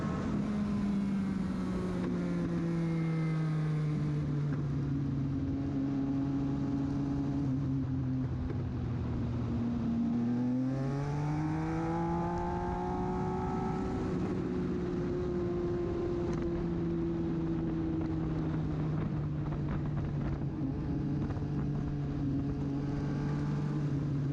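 INEX Legend race car circling a track, a steady droning engine note that holds one pitch, dips briefly near the middle, then climbs again, with wind buffeting throughout and no talk.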